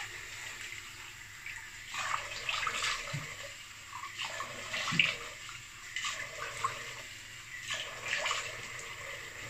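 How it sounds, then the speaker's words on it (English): Cold tap water runs and splashes as a face is rinsed after a shave with a Gillette Tech razor, a steady faint rush broken by several louder splashy surges, with no talking. "Now cold water rinse on the face."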